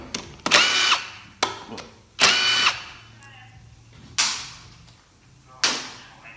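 A power tool runs in about five short, loud, whirring bursts, close by, while taking out 10mm bolts on the valve body plate of a 4L60E automatic transmission.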